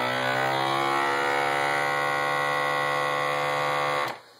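A FoodSaver V1 vacuum sealer pump runs with a loud, steady buzzing hum for about four seconds, then cuts off abruptly, leaving quiet.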